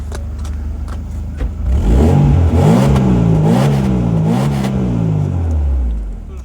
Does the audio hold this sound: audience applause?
no